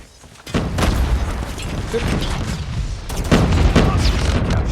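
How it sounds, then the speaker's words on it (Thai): A grenade goes off in the Call of Duty Mobile shooter game, a sharp blast followed by a second heavy boom a few seconds later amid ongoing gunfire and rumbling. "Grenade."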